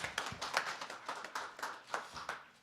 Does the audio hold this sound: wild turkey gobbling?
no